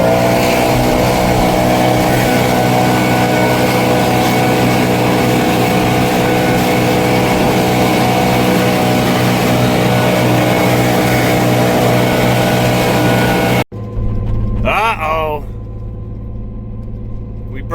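Combine harvester engine running loud and steady with a dense low drone, then cutting out sharply near the end, leaving quieter idle noise with a voice talking over it.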